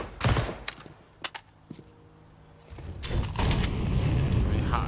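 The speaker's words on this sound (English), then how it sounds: "now the SMGs come into play" Counter-Strike match with submachine guns: a few bursts of close gunfire come in sharp clusters, a few separate shots follow, and then dense, continuous firing and clatter build up toward the end.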